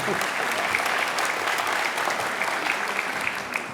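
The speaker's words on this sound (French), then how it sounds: "Oui, on peut l'applaudir." Steady applause from an audience at a municipal New Year's wishes ceremony in Beuvry-la-Forêt fills the whole stretch, a dense even patter of many hands with no break.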